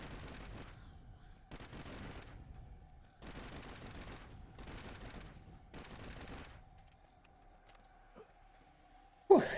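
The XM-4 Titan gun in the video game Into the Dead 2 fires in several rapid automatic bursts, each lasting about a second, with short pauses between them over a faint steady game tone.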